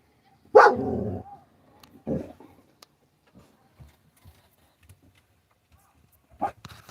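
A dog at a Saturday night gathering gives one loud bark, then a shorter second bark, followed by faint scattered sounds and a final brief bark near the end.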